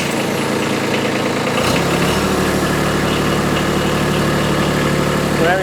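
A compact tractor fitted with a B01 LA435 front loader starts up partway through with a rough catch, then settles into a steady, loud diesel idle that rumbles on to the end.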